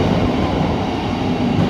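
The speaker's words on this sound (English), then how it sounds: "I'll keep recording as the train departs" A Thameslink train pulls out of the low-level platforms at London St Pancras, a steady close rumble of wheels and traction noise that holds level and unbroken throughout.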